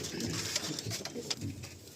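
Several pigeons coo softly and intermittently near the handler as pairs are about to be released, the low murmuring calls mixed with faint rustling and background noise.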